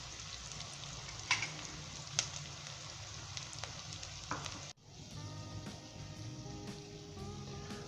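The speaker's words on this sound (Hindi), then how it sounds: "और प्याज को हम जो है लाइट गोल्डन ब्राउन करेंगे।" Onions frying in hot oil toward light golden brown for a Punjabi peas and boiled egg shorba, a steady close sizzle with a few sharp pops and a brief break partway through, no voices.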